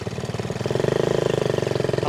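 A Honda Z50A mini motorcycle engine running close by, a steady chugging single-cylinder putter that rises into a faster, pulsing rev.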